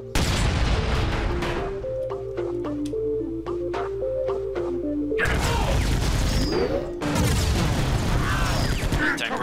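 Objects breaking and shots firing in the side-scrolling action game Iji, with repeated sharp crashes and bursts over a steady droning game soundtrack with stepped tones, loud and busy throughout.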